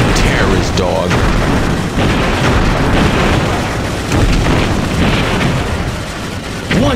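Loud, dense explosions and booms from the helicopter combat game Heli Heroes, rolling continuously with bursts and rumbling blasts, alongside what sounds like gunfire.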